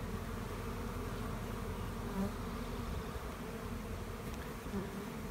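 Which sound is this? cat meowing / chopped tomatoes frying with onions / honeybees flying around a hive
honeybees flying around a hive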